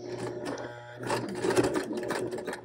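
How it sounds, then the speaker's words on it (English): A sewing machine stitches along the edge of a waistband on PJ shorts, a steady, close whirring hum that surges slightly midway. "And then we're going to stitch along the edge."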